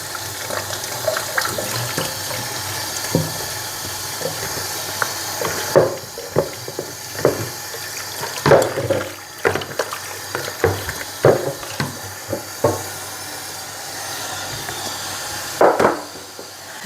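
Tap water runs into a sink while something is washed under it, a steady stream broken by clattering knocks and splashes as items are handled, fairly close.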